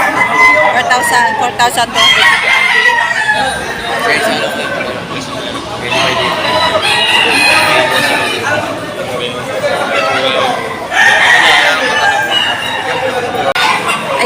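Chickens and roosters at a busy open-air poultry market, crowing and clucking repeatedly over steady crowd chatter and bargaining voices, loud and close throughout.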